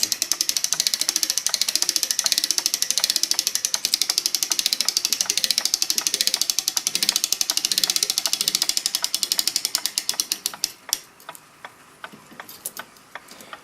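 Clock mainspring winder ratcheting as a Sessions loop end mainspring is let down, a rapid, close, even train of metallic clicks that slows and thins out near the end.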